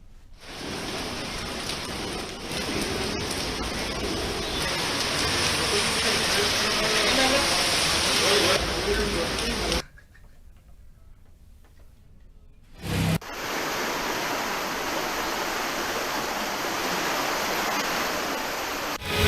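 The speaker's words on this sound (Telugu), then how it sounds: "హైదరాబాద్లో పలు చోట్ల భారీ వర్షం కురిసింది." Heavy rain pours down across Hyderabad, a dense steady roar that drops out abruptly for a few seconds before resuming just as loud and close.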